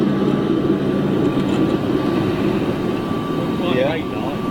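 A Royal Air Maroc Embraer jet at Lisbon airport gives a steady, loud roar of engine noise, with people talking over it.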